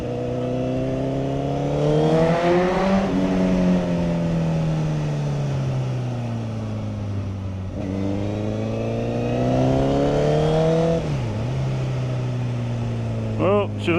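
A 57-plate Honda Fireblade motorcycle accelerates hard in second gear through a tunnel, its engine note rising loudly in long revving sweeps, dropping at each shift and climbing again, with echoing reverberation and no voices.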